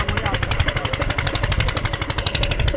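A diesel irrigation pump engine knocks while running in a chili field, a close, steady rapid thumping with a regular mechanical beat throughout.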